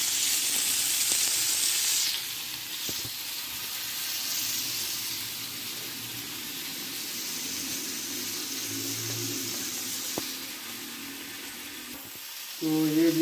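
Chicken stick tikka frying in a pan, a steady close sizzle with a bright hiss throughout, briefly swelling louder then settling into a continuous crackle.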